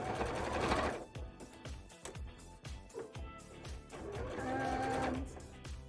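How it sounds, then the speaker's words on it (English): A sewing machine stitches bra fabric in short, rapid bursts of close mechanical whirring, pausing between runs, then a longer stretch of stitching near the end. "gotta be a little careful with my sewing here because I still don't want to be pulling up a lot of the fabric"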